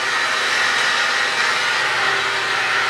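Steel pieces being cut for an aquarium stand produce a loud, continuous, harsh hiss that holds steady and close without pause for the whole stretch.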